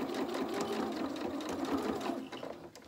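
A domestic sewing machine stitching the shoulder seams of a T-shirt dress, its needle running in a fast, steady mechanical chatter close up and alone for the whole stretch.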